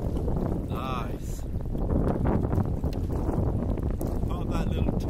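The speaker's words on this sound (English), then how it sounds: "It's windy, it's raining" Wind gusting over open sea during kayak fishing for bream under Brighton pier in rain, a steady broadband rush that fills the whole stretch, with voices talking over it.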